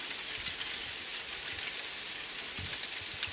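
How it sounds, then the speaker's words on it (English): Steady rain hissing down, a constant broadband wash with a few louder drops and patters landing close by; no voices. "hopefully this rain will die off"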